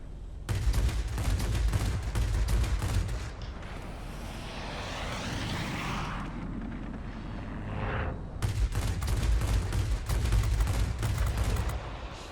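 Cannons on the Chinese Shenyang J-1A fighter plane in World of Warplanes fire in long, loud rapid bursts over a steady aircraft engine roar, pausing midway while the engine drone continues, then firing again.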